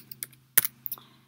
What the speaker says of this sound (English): I'm just hitting my tab key on my keyboard.